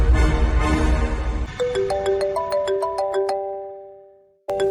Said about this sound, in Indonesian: Mau gak mau aku harus telepon Ivan.